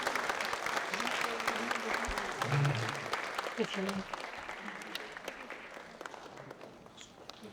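A forum audience applauds after a panel discussion, clapping that is fullest early and then tapers, with a speaker's voice heard over it.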